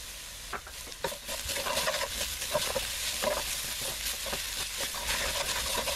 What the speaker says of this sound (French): je vais faire revenir les oignons, l'ail, le thym et un petit peu de curry